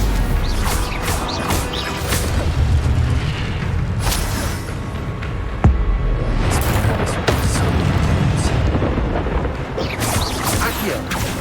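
Magic spell blasts in the Hogwarts Legacy video game, a dense barrage of loud booming impacts and crashing bursts that overlap continuously, with a sharp strike near the middle and no pause between casts.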